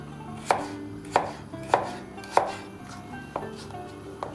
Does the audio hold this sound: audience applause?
no